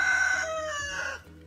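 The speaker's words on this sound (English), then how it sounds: "That rooster's kind of loud, so I have to pause to let him go sometimes." A rooster crows once, loud and close, a long drawn-out call that trails off at the end.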